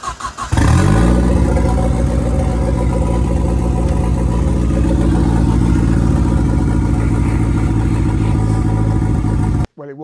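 A Ford Fiesta RS Turbo with a rebuilt engine catches and settles into a loud, close, steady running drone that holds evenly for about nine seconds before cutting off abruptly.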